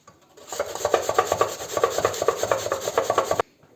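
A whole apple, about 185 grams, being grated by hand for pumpkin porridge, giving a steady run of close, rhythmic rasping strokes with no talking.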